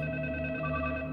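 A telephone rings with a steady electronic tone, heard alone and moderately quiet for about a second.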